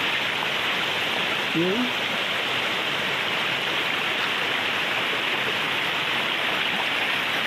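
Flooded river water rushes in a steady, loud broadband roar that fills the whole stretch, with a brief voice or call briefly audible over it.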